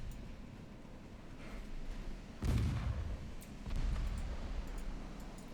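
Naval guns fire in the Ultimate Admiral Dreadnoughts warship game, with two heavy booms heard at a distance over a constant low rumble of ship noise.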